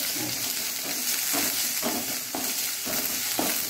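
Sliced onions sautéing in a generous amount of oil in a pan, a steady close sizzle with periodic stirring scrapes roughly every half second.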